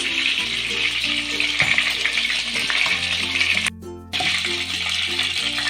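Chicken pieces fry in hot oil for a chicken fry, a close, steady, hissing sizzle that stays loud throughout apart from one brief dip, with a faint low hum underneath.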